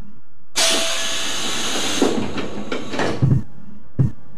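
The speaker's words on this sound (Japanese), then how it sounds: "扉が閉まります。" Train doors in the video game Train Crew close with a loud, sudden hiss of air that fades over a few seconds, followed by two short thuds as the doors shut.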